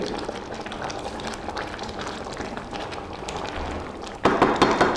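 Peanut sauce simmering and bubbling in a pot, a soft steady burble of small pops that grows sharper and louder near the end.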